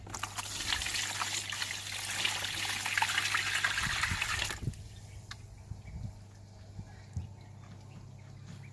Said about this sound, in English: I'm going to apply the water slowly.